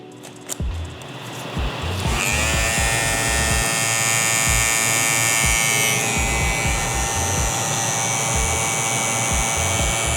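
A cordless BaByliss Rose Gold FX One hair clipper hums steadily at close range after a brief click on, a constant buzzing motor with a bright whine and no talking.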